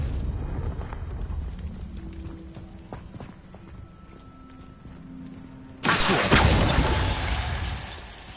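A Confringo fire-spell explosion from Hogwarts Legacy on PS5 cuts in suddenly after a quieter stretch of game ambience, then a loud, sustained crackling roar lasts several seconds before slowly easing off.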